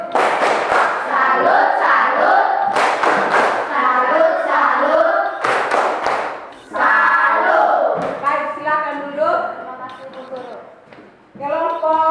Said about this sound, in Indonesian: Mari kita tepuk salut.